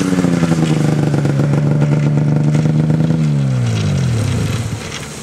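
A snowmobile rides groomed trails in Newfoundland and Labrador, its engine droning loud and steady close by, then the pitch sweeps downward as it eases off and the sound fades near the end.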